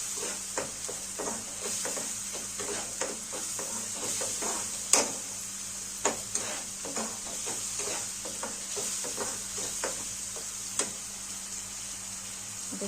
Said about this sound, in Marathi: टोमॅटो थोडा भाजत आलाय.